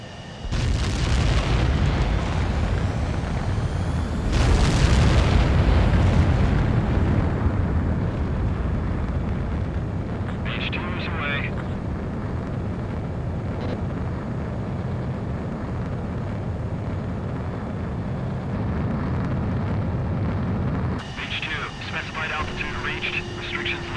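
Jet fighter roaring into takeoff in Ace Combat 7: Skies Unknown, a loud sustained engine rush with a surging boom as it launches, then a steady roar, with game voices talking over it.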